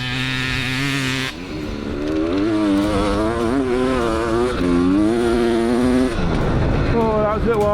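A powerful dirt bike engine revs and drops repeatedly as it is ridden around a tight, twisty track, a loud close buzzing whine rising and falling through the corners with brief throttle cuts.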